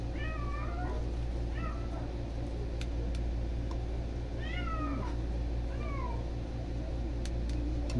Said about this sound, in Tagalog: Mga pusa dito guys na ano na